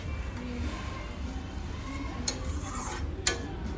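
A spoon stirs a yam and Malabar spinach curry with tamarind juice in a pot, giving soft scraping and a few light clinks against the metal over a low background hum.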